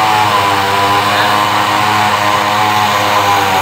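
A bare 70cc engine with no fuel tank or frame fitted runs on petrol, a loud, steady, raspy buzz close by with no letup.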